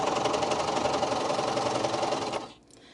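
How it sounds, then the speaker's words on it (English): A sewing machine running a cover stitch hums in a fast, even mechanical chatter for over two seconds, close and loud, then stops abruptly, leaving near silence with no talking. "So I'm just going to cover stitch for a little while."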